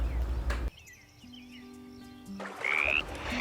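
Frogs croak in a steady chorus of repeated calls, with louder, fuller bursts at the start and the end and thinner, sparse calling in between.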